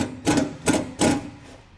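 Self-tapping button head screws driven into a trailer fender with a power driver, heard as three short buzzing whirs with brief gaps between them, close and fairly loud, with no talking.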